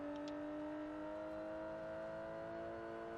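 A Range Rover Velar engine held at high revs past 6,500 rpm, a steady, fairly faint whining drone with strong tonal harmonics and little change in pitch. No one speaks.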